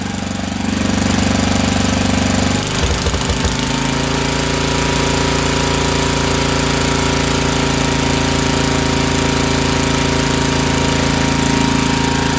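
Garden Way 33-inch walk-behind mower engine, leaking and flooding oil, running loud and close: a lower idle shifts abruptly to a steady, higher-pitched drone that holds evenly with no popping, no voices.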